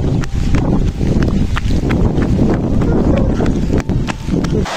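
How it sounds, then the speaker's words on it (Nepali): Heavy rain and strong gusting wind roar steadily through a dense, close, continuous broadband wash, with scattered sharp patters on top and no spoken voice. "ओबरै ठुलो पानी आइगयो हेर गाइस भएर त ओबरै ठुलो पानी आइगयो त अघि नै पुरै हावा चलिरहेको छ"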